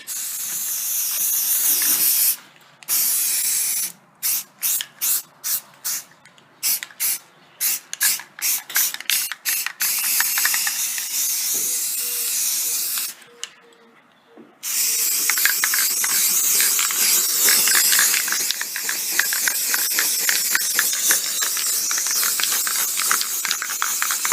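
Short hissing bursts of an aerosol spray paint can, sputtering in quick pulses, then a long continuous spray that runs to the end, painting a 1988 Jeep XJ windshield area.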